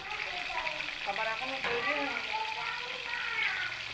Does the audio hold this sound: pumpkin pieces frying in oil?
yes